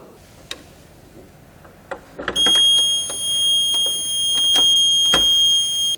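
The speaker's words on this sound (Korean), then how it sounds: "이곳에 잭을 꼽으시면 지금처럼 수신기에서 부저음이 납니다" After a few clicks, a loud electronic buzzer from a fire alarm receiver starts when a handset jack is plugged in, droning steadily nearby with a high, piercing, unchanging tone.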